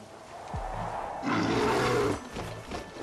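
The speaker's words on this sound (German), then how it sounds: "Ein Bär." A bear in the video game Red Dead Redemption lets out a deep, sustained roar, loud and fairly close, rising over ambient wilderness background noise with no talking.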